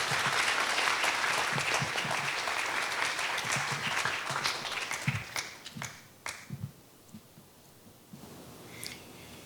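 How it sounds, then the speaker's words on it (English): An audience at a 2023 awards ceremony applauds the awardees with dense, sustained clapping that thins out into scattered individual claps and fades toward the end. "Can we have another round of applause for the awardees"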